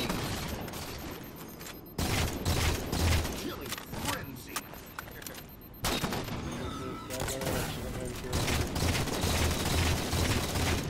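Rapid automatic gunfire from a Halo 4 Team Slayer match on the Adrift map, loud bursts and volleys running nearly continuously for about eleven seconds, with players talking over the shooting.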